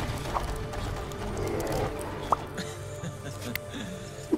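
Horse hooves galloping in Devil May Cry 3, a steady rumble of hoofbeats over a busy game soundscape, with a few sharper clicks and knocks standing out near the end.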